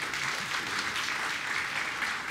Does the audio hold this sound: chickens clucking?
no